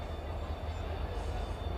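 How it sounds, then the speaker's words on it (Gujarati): Passenger train 09513 rolls into Jetalsar station with a deep, steady low rumble, moderately close, lasting the whole brief moment. "આપણી ટ્રેન આવી રહી છે"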